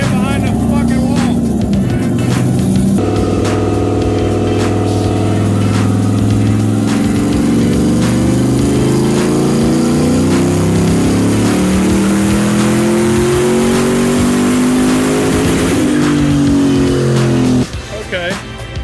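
A turbocharged Chevrolet Silverado truck with a 4L60E transmission revs hard and loud, its engine pitch sweeping up and down over a sustained roar, while people talk over it.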